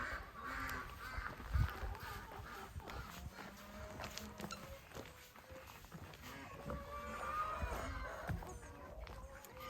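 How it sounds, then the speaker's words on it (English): Harsh, rasping guinea fowl calls ring out repeatedly at a moderate distance amid scattered farmyard noises and shuffling near a barn. "These are our bonus guineas."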